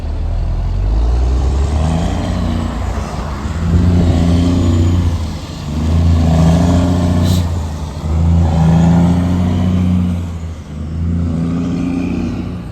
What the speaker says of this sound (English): I followed that truck the whole way home listening to that beautiful sound.